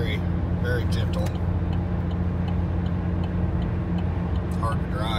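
A 2017 GMC Canyon crew cab work truck with the four-cylinder engine, towing in fifth gear on light throttle: a steady, droning engine hum with road noise, constant and close, under continuous cabin ambience.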